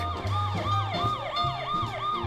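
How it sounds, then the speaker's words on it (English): An ambulance siren from the city-building game SimCity 3000 whoops in a fast repeating rising-and-falling pattern, steady and fairly close, with a low engine-like drone beneath. "Ambulance having a little whoop-off-o, little whoopy-whoopo."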